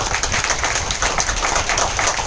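A seated audience at a business training seminar breaks into a steady burst of dense clapping that fills the whole stretch at an even, lively level, with no voices on top.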